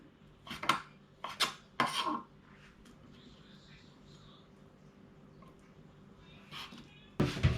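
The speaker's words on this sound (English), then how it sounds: "I'm going to cut this" A knife cuts beef into slices on a cutting board for Asian beef laab. Three sharp, separate chops come up close, then a quiet pause, then a final clattering knock of utensils.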